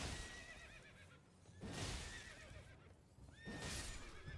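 A horse whinnies three times in Elden Ring, loud shrill neighs spaced about two seconds apart over a muffled game background, with a faint clop of hooves underneath.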